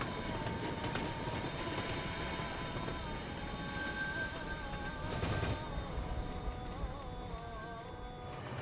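Tista Express, an inter-city train from Dhaka toward Joydebpur, running at full speed with a steady rumble and rattle heard from on board, and faint tonal whines rising and falling throughout.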